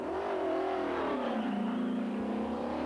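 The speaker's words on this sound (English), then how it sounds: "the W196 Mercedes, which is a car that I was lucky enough to win the British Grand Prix with in '55" Mercedes W196 Grand Prix car engine at the Goodwood Festival of Speed, revving steadily and loudly up close, its pitch rising and then settling into a sustained high drone, with no speech.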